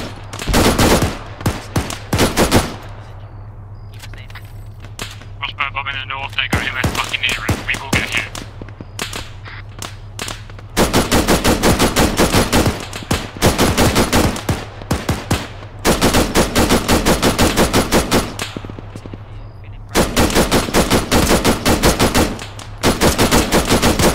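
Automatic weapon fire in the military video game Arma 3 rings out in repeated sharp bursts and sustained volleys, loud and close, with short pauses between strings of shots and no talking.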